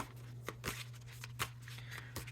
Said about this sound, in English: let's just get a little bit more of a shuffle here